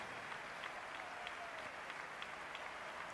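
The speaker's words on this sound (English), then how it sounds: "Full house standing and applauding" A full house at an international basketball game in Spain applauds steadily, a dense continuous wash of clapping with scattered sharper claps standing out.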